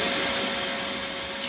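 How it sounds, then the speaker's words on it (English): A wet vac running during demolition work, a loud steady motor whine and airy roar held close for a short stretch without interruption. "Straight in with the wet vac."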